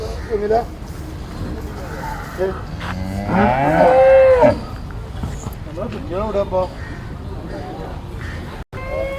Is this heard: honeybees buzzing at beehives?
no